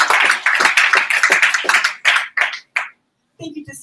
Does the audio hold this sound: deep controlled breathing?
no